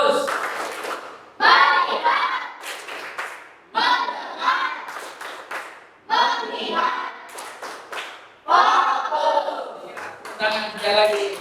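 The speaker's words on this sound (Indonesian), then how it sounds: "Tepuk fokus." A standing class of students performs a rhythmic focus clap in a classroom lesson, with sharp bursts of clapping in repeated two-second phrases mixed with chanting voices.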